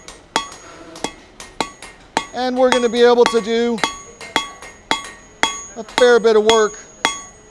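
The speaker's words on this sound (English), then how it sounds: "this is sort of the standard blacksmithing blow here, used for drawing material out" A blacksmith's hammer strikes metal on an anvil with standard drawing-out blows, sharp ringing impacts repeated at an even pace, close and loud, with someone talking between and over the strikes.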